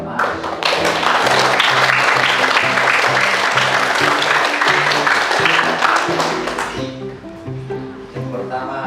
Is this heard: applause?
yes